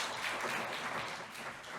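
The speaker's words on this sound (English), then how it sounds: "Once again, please give her another round of big applause." A conference audience applauds after a presentation, giving a faint, even wash of many hands clapping throughout the short stretch.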